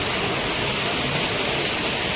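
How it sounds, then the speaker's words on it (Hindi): A waterfall near Bhimbali on the Kedarnath trek in the Himalayas roars as a dense, continuous rush of falling water, loud and steady with no speech. "पीछे देखो कितना सुंदर झरना गिर रहा हमारे"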